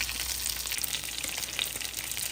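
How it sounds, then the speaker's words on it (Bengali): Hilsa fish tails seasoned with turmeric and salt frying in mustard oil, a dense, even crackling sizzle heard up close and unbroken throughout. "এর জন্য আমি ইলিশ মাছের লেজগুলোকে সামান্য একটু হলুদ আর লবণ দিয়ে সরিষার তেলে ভেজে নিচ্ছি"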